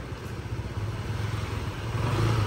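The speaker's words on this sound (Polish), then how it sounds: "Dorota uczy się jeździć na Hondzie" A Honda scooter engine running steadily close by as someone rides it, a low buzzing hum that swells slightly toward the end.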